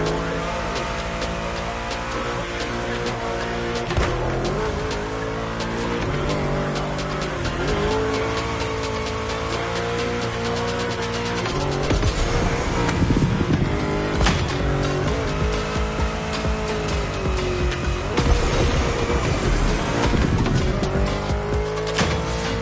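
A video game car drifting through a bend, with a loud, continuous engine roar that rises and falls with throttle changes, long tire squeals and skidding, plus a steady game soundtrack underneath and no talking.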